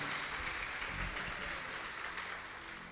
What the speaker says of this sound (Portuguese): Você pode aplaudir o Senhor, crendo no seu poder, faça isso com uma alegria